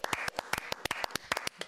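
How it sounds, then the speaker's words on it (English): A small round of applause from a couple of commentators, irregular individual hand claps close by and fairly quiet, lasting under two seconds with no talk over it. "we just want to add our little round of applause"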